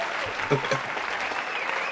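Applause and scattered clapping in a small group toasting at the start of a podcast recording, steady and close, with voices talking over it.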